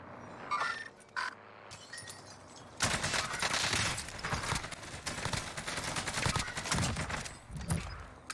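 Gunfire in Warzone Pacific, a few isolated shots at first, then a dense sustained burst of rapid automatic fire with scattered impacts.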